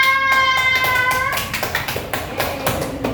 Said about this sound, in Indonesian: Beri tepuk tangan kepada Mbak Siva.